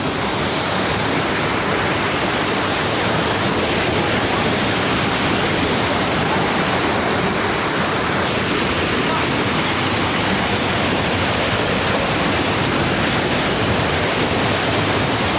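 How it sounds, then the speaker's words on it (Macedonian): A tall waterfall at Voden, Macedonia, with water falling about 70 m, a dense, loud, unbroken roar of rushing water filling the whole clip. "Водопадите."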